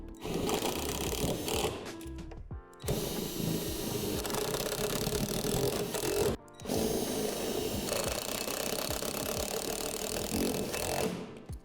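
A power tool whirs steadily as it drives self-tapping screws through the metal of a swing set, running in long continuous bursts broken by two short pauses.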